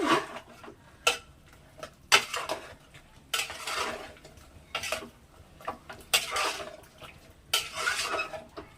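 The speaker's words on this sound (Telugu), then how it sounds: "కట్ చేసి పెట్టుకున్న వంకాయలు, వేసి కలపాలండి బాగా." Chopped eggplant being stirred into mutton curry in a pot, with repeated scraping and clinking of a utensil against the metal in irregular strokes, close and moderately quiet, with no talking.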